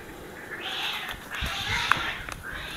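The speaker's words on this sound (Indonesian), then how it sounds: "Oh, ada kucing berantem." Cats fight outdoors with drawn-out yowls and caterwauling meows rising and falling in overlapping bursts at moderate distance.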